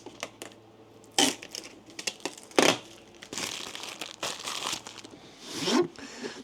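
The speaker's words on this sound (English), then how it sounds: "let's take off all the protective films or tape and foam" Protective film, tape and foam peel off a Midea 7-litre 3-in-1 air cooler in a series of sharp crinkling rips and tearing bursts, close and loud, separated by quieter handling rustles.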